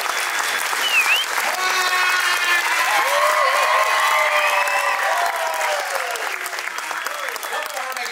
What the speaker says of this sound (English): how about a nice round of applause for the host of today's show, Alex Ross